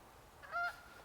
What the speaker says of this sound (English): I think that's the same lone goose I saw flying earlier.